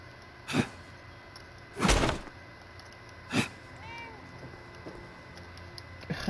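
A cat in the video game Fallout 76 gives three separate loud meows spaced about a second apart, with quieter game ambience and faint talk between them.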